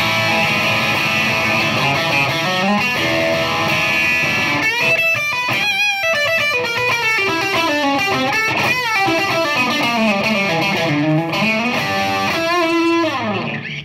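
An electric guitar played through distortion rings out for about fourteen seconds, moving from sustained chords into busy, shifting runs of notes, loud and steady with no talking over it.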